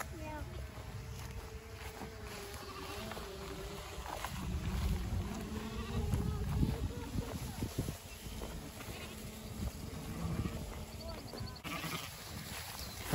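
Sheep and lambs bleat here and there while a small mixed flock is herded on a rotational grazing pasture, under wind and handling noise with people talking.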